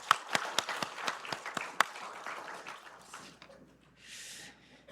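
A church congregation claps rhythmically after a choir's hymn at a Sunday service, crisp and fairly close, fading out after a few seconds into quiet room noise.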